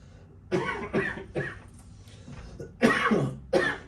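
Several short, harsh coughs in quick bursts, a pair early on, then a pause, then two more louder coughs close to the microphone.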